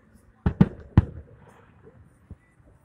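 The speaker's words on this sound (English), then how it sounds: "Yep, those are some big fireworks." Big fireworks at an outdoor display burst with three loud booms in quick succession, followed by a quieter crackle and one more fainter bang a moment later.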